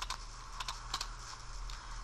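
Fingers type a captcha on a computer keyboard in quick, light key clicks, with small clusters of taps over a steady low hum, close by and with no speech.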